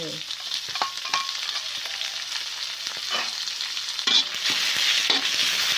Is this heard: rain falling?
no